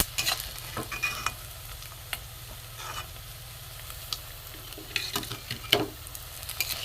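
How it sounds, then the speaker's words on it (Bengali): Leftover rice tikiya shallow-frying in a little oil in a pan: a steady close sizzle runs throughout, broken by scattered sharp clicks and scrapes of a utensil turning the patties. "ঘরে থাকা উপকরণ দিয়ে যা যা থাকে সাধারণত ঘরে, সেই দিয়ে আমি এগুলো বড়া বলুন আর টিকিয়া বলুন অল্প তেলে ভাজছি।"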